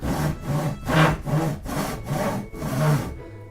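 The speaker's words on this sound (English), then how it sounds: "take your saw and saw" A hand saw cuts through wood in about seven quick back-and-forth strokes, each rasping pull rising and falling in a steady rhythm, close and clear before stopping abruptly.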